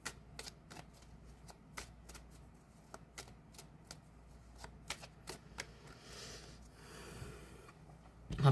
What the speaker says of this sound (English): I put the truth card back in the deck.